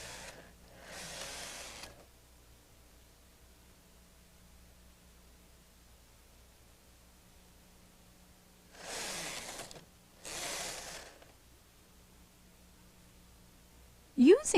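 A Brother KH-930/KH-940 electronic knitting machine knits, its carriage making broad hissing, rasping passes: one sweep near the start, then two close-together passes later, each a second or so long, over a low steady hum.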